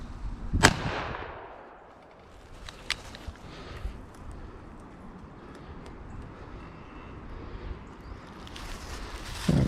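A 9mm firearm fires one loud, sharp shot near the start, its crack ringing out and decaying into open outdoor ambience, with a couple of much fainter pops later.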